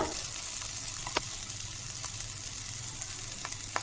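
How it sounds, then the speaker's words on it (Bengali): Rice frying in a pan on the stove, giving a steady low sizzle throughout with a few faint clicks of stirring and no talking. "দেখুন বোঝা যাচ্ছে যে ঠিক কীভাবে চালটা ফ্রাই করতে হবে"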